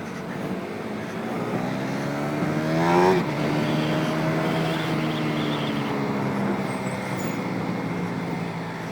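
A KTM Duke motorcycle engine hums steadily on the road, its pitch sweeping up in a quick blip during a rev-matched downshift before settling back to a steady drone.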